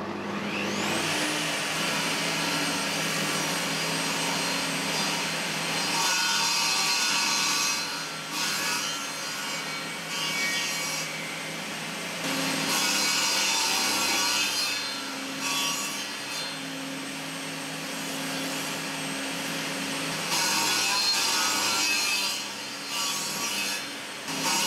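A saw cuts steadily through wood for a long stretch, a continuous rasping grind with slight rises and dips in intensity, close and fairly loud.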